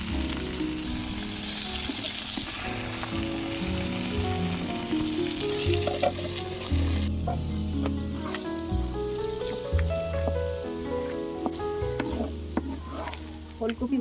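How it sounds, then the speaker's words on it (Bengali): Kohlrabi sizzles steadily in hot oil in a home kitchen, a dense crackling hiss with occasional scraping stirs and soft clinks, no voices. "এবারে ওলকপিটা ভেজে নেব"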